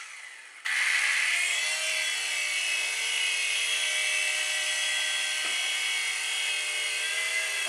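Mini infrared 3-channel RC helicopter powering on, its tiny electric motor and rotors jumping abruptly to a high, steady whine that holds loud and close with slight wavering.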